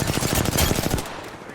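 Rapid bursts of video game gunfire, dense automatic shots for about a second before cutting off to quiet.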